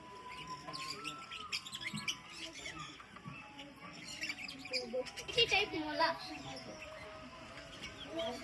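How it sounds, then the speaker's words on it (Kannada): A variety of birds at Nemmara Pets Park give faint, repeated chirps and tweets, scattered over soft background noise while a person talks nearby. "ಬರ್ಡ್ಸ್ ಇದೆ, ಸಿಕ್ಕಾಪಟ್ಟೆ ಬರ್ಡ್ಸ್ ಇದೆ. ವೆರೈಟಿ ಆಫ್ ಬರ್ಡ್ಸ್ ಎಲ್ಲ ಇದೆ ನೋಡಿ."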